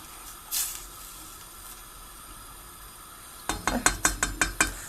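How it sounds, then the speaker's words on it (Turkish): A quiet hiss and faint scrape, then a quick series of about eight rhythmic wet clatters as a spoon stirs through a pot of cooking beans with meat. "Şöyle bir kere daha karıştıralım."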